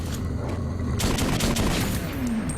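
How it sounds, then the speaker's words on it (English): A shotgun fires in the first-person shooter Metro 2033, one loud, close, booming blast cutting through a dense, rumbling game soundscape. "And what I have to say to that is, here's a shotgun."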